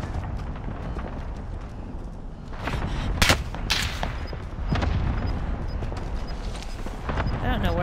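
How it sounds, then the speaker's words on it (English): Gunfire in Call of Duty: Modern Warfare: a dense battle bed of distant shots and rumbling blasts, with a few sharp, louder reports cutting through midway, while voices talk over the fighting. "I don't know where they're shooting from."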